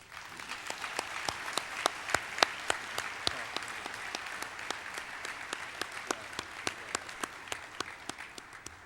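Audience applause at a Hall of Fame induction ceremony honoring a track and field coaching inductee, a steady wash of clapping with sharp individual claps standing out, sustained for the whole stretch without speech.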